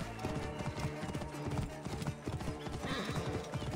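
Horse hooves clip-clopping in a steady rhythm with a neigh, from the video game Assassin's Creed Origins, loud and close against a busy game soundscape.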